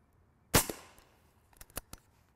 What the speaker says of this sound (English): I want to shoot a pineapple, so I'm going to shoot a pineapple